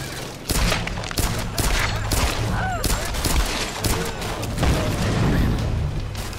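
Gunfire in the video game Tomb Raider (2013), sustained rapid shots and booming impacts in a loud, dense firefight, with a voice speaking faintly underneath.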